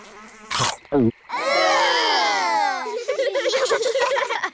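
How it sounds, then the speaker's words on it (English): Cartoon flies buzzing in a high, wavering, sing-song drone that rises and falls for a couple of seconds. A short burst of small voices or giggles comes before it, and chattering sounds follow. "Frogs eat flies."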